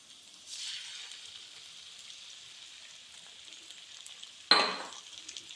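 Two eggs frying with capsicum in a hot pan, a soft steady sizzle throughout, then a sudden loud burst of crackling sizzle as the eggs hit the oil near the end, fading slightly afterward.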